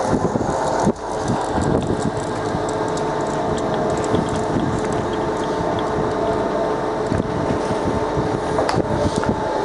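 A Mitchell VM8 centre lathe runs steadily at around 500 rpm, its headstock gearing giving a close, continuous mechanical whir with faint ratcheting ticks and a slight airy hiss throughout, no voices.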